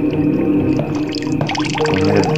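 A bathroom tap in the video game The Midnight Man runs steadily, pouring and splashing in a continuous gush with bubbling, gurgling variations.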